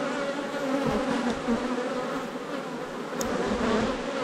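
Honeybees at an opened hive in an apiary during end-of-season work give off a dense, continuous buzzing hum, close and steady, with swarming wingbeat tones layered over one another and no voices.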